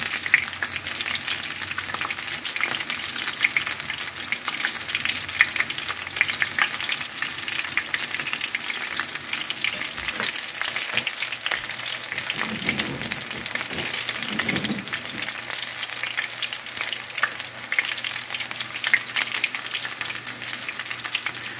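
Small onion ring pieces deep frying in hot oil give a steady, dense crackling sizzle that runs evenly throughout at moderate loudness, with no voices.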